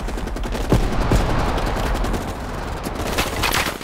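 Gunfire rattles in a Call of Duty Black Ops Cold War campaign battle, a dense continuous barrage of shots with a few sharper close reports standing out over the constant roar.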